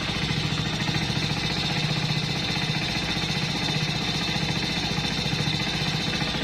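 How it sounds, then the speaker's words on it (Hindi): A modified Hero Splendor motorcycle engine idles up close with a steady, rapid mechanical chugging and rattling pulse, loud and alone, holding a constant rhythm throughout. "इंजन की आवाज़ सुनते हैं यहाँ से।"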